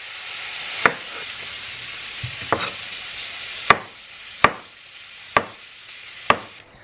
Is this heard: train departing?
no